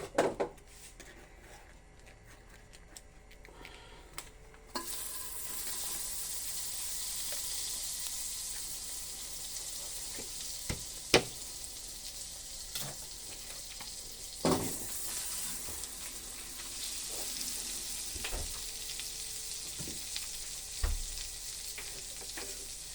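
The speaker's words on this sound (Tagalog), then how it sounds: "Magtutunaw lang tayo ng butter." Butter melting over low heat in a pan for buttered paella, a steady close sizzle and hiss that starts after a few seconds and runs throughout, dotted with occasional knocks and clicks of utensils, no talk.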